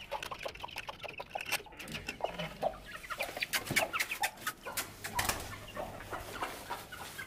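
Chickens cluck and chatter nearby in an irregular stream, with scattered rustling and faint movement around them.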